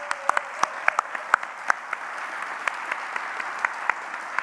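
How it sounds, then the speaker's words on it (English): An audience at a township address applauds the youth council, a thin scattering of sharp individual claps over a steady soft wash of clapping. "Let's give them a round of applause"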